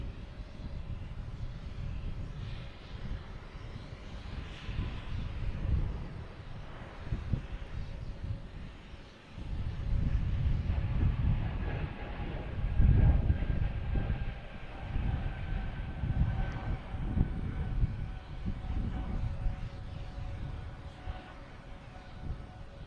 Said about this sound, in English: we have a JetBlue heading to Cleveland